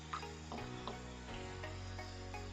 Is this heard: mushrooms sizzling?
yes